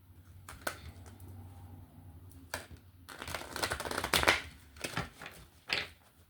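A deck of playing cards being shuffled in a quiet room, with repeated crisp riffling bursts building through the middle and a final flurry near the end, close and fairly soft.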